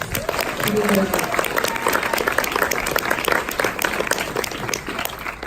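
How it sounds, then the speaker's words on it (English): Audience applause fills a Q&A event room after a guest is introduced, a steady dense wash of clapping from a large crowd throughout, with no talk over it. "let's give her a round of applause"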